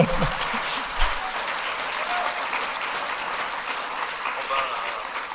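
An audience in a hall at a closing ceremony applauds steadily, a sustained roomy wash of many hands clapping that starts with a couple of louder bumps and holds at an even level throughout.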